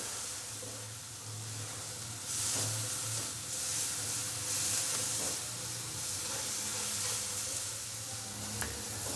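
Spices sizzle and fry steadily in a pan with a little water for a samosa sandwich filling, a continuous moderate hiss with occasional stirring scrapes, close by and alone.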